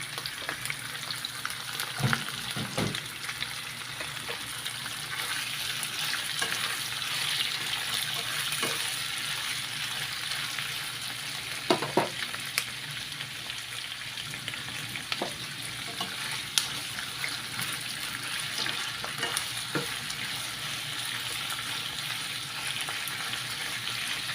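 Squid cooking for adobo sizzles and fries steadily in a pan, with occasional sharp clinks and scrapes of a utensil stirring it throughout.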